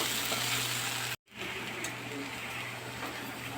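Okra frying in a pan for a Telugu-style bendakaya curry, a steady broadband sizzle with a brief dropout partway through before the crackle resumes, close and continuous with no talk.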